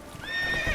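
Roach, the horse in The Witcher 3, lets out a short rising whinny over galloping hoofbeats, close and fairly loud, lasting under a second.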